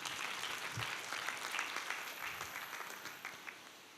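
Church congregation applauding during a sermon, a broad patter of many hands clapping that fades gradually over a few seconds, somewhat distant.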